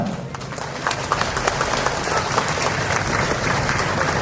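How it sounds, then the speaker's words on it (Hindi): An audience at a book launch for a collection of Arunachal Pradesh folk tales claps steadily, a dense, even patter of applause lasting throughout. "बहुत ही जोरदार तालियां"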